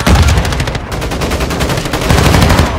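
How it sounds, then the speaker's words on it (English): Rapid automatic gunfire in Call of Duty: Modern Warfare II team deathmatch, loud, dense bursts of shots running continuously with no talk. "Taking fire over here!"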